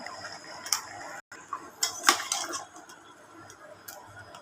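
Ginger, garlic and spices are stirred with chicken in a pot, giving a few sharp metallic clinks and scrapes of a spoon against the pot, close and sparse, with quiet gaps between.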